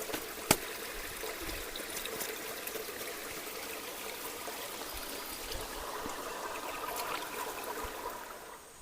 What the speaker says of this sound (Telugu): ఇక్కడ చూడండి బయట నీళ్ళు పోతానే ఉన్నాయి ఇంత ఇంత పెద్దగా వస్తున్నాయి చూడండి నీళ్ళు బయటికి